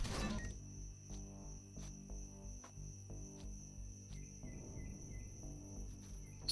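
Rooms opening in the Empyrion space game after a switch is thrown: a steady mechanical drone with repeated clunking, clicking impacts and a high electronic tone running throughout, fairly loud and without speech.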